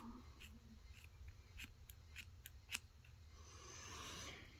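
Quiet, close snips of dull scissors cutting nylon doll hair, a handful of quick cuts in an uneven series, with no talking.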